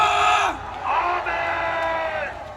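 A massed crowd at a Korean outdoor rally shouts in unison, loud sustained vocal roars rising and falling in waves, with a brief dip between bursts.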